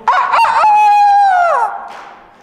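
A rooster crows once, loud and close, with a few short opening notes and then a long held call that falls away at the end, heard alone.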